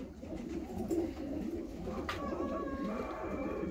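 A loft of Polski show pigeons coos in soft, repeated low throaty calls, steady and close, over a faint background hiss with no talking.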